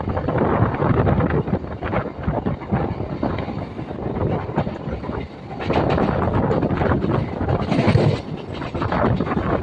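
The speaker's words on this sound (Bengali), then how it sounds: "ট্রেন এখন বেরিয়ে যাচ্ছে" A Lalgola–Sealdah MEMU train rumbles through Ichapur station at a steady, loud roar with wind buffeting the microphone, the noise swelling again toward the end.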